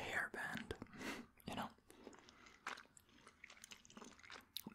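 Close, crunchy chewing and biting of Norwegian candy in soft repeated bursts, with quiet whispering throughout.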